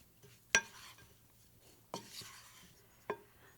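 Pork tenderloin being tossed with mixed seasonings in a bowl, three sharp clinks of a utensil against the bowl with faint rustling between them, fairly quiet and close.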